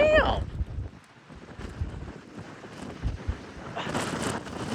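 Strong Northeast Atlantic gusts near 60 mph buffet the microphone in heavy, uneven rumbling bursts along the coast, with a brief high whistle at the start.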